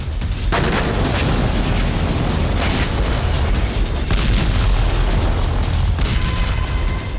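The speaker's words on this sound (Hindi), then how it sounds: "कीव में मिसाइल हमले के दौरान कई धमाके हुए।" Russian missiles strike a densely built area of Kyiv in a series of heavy, loud booms and blasts over a continuous roar of rumbling noise, with no voices.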